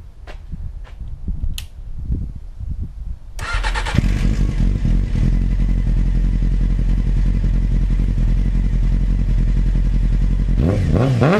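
A Honda CBR600 F2 motorcycle fitted with a D&D shorty exhaust pipe clicks and cranks a few times, then starts and runs at a loud, steady idle close by, with a brief rev near the end.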